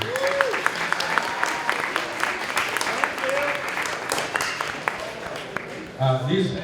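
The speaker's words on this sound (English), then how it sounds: "If we give them a round of applause, that'd be lovely" Round of applause at a school open mic night for the helpers who set up the event, a steady wash of clapping from a seated crowd with brief voices over it, ending as a voice speaks.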